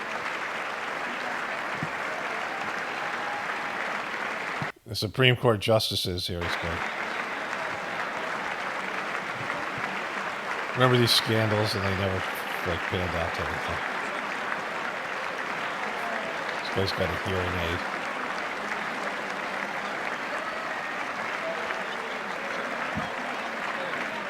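Sustained applause fills a large chamber during the State of the Union address, a steady crowd roar throughout, while someone talks over it in a few short bursts.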